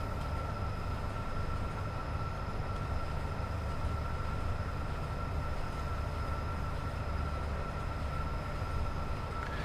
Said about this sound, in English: we want to have the train coast down to 80